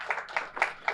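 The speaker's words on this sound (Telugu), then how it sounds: "మరి వీరందరికీ ఒకసారి గట్టిగా చప్పట్లు కొడదాం" Audience clapping at a company's ninth anniversary celebration to honour the employees, heard as a brief burst of several separate claps in a loose rhythm.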